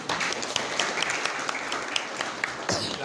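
An audience claps in steady, continuous applause after poetry recited during a Hindi-language lecture, heard at moderate distance with no voices over it.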